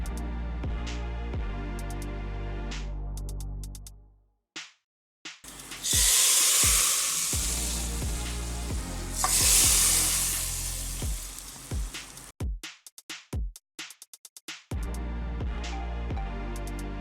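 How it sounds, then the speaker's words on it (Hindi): Loud, sudden sizzling bursts twice as hot oil tempering is poured into whole brown lentil dal, with a sharp crackling hiss between stretches of background music. "और अब मैं लगाऊंगी दाल को तड़का"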